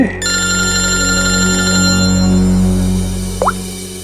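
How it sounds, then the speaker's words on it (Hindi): A telephone rings in a scene from a crime drama, giving a loud, sustained electronic ringing tone that holds steady for several seconds, with no voices over it. "सर हॉस्पिटल से फोन था"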